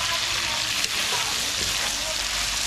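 Pork belly adobo stirred in a pan, with a loud, steady close sizzle and frying crackle, plus a brief clunk of the utensil.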